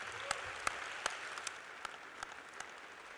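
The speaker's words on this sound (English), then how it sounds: "can we give your faculty just a round of applause for all the great work that they've done?" Applause for nursing faculty at a spring nursing pinning ceremony, faint and distant, a steady wash of clapping with a few sharper individual claps standing out at regular intervals over about three seconds.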